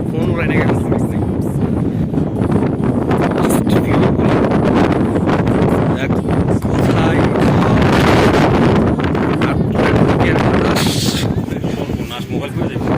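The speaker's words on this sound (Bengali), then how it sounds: "বাতাস অনেক বেশি" Strong wind buffets the microphone on a high, exposed Atlantic-coast viewpoint in Portugal, a loud continuous low roar and rumble that fills the whole stretch with gusty surges; voices speak briefly underneath.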